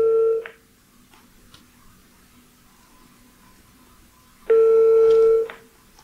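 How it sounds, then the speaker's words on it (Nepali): A telephone sounds two clear electronic tones, one short beep at the start and a longer one a few seconds later, separated by quiet line hiss, as a call is dialed in a Nepali radio phone-in program. "आजको चौथो कल हामी लाउन गइरहेका छौँ।"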